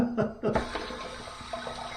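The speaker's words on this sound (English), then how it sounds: "Here's my warm water rinse." Warm water runs from a tap for a face rinse during a wet shave, a steady splashing hiss with a few brief clunks and handling sounds at the start, close and fairly quiet.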